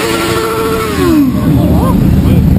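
A motorcycle sweeps past with a falling engine whine, then rumbles on close by as people talk over it.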